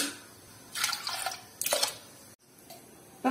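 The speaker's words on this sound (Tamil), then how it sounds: "தண்ணி இன்னும் கொஞ்சம் சேர்த்துக்கலாம்" Water is poured into a cooking pot of soaked lentils for fenugreek-greens kadaiyal, making a rushing splash in two surges before it cuts off briefly and resumes softly.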